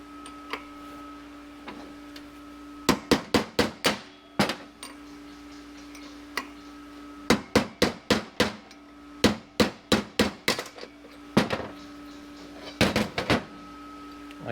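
A hammer drives a bushing out of a 4L60E transmission drum in sharp, close metallic strikes, fired in quick bursts of four to six blows with short pauses between them.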